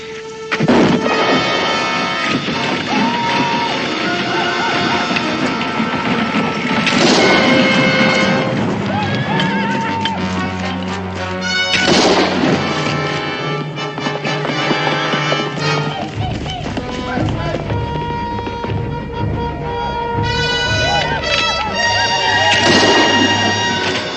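Rifle gunfire in a 1969 frontier Western TV drama: a few sharp, loud shots burst out at intervals over dramatic music, with galloping hoofbeats and commotion around them.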